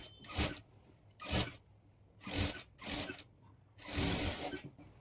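A sewing machine stitching a plain blouse, heard as five short bursts of machine whirring with quiet pauses between them, close up and with no voices.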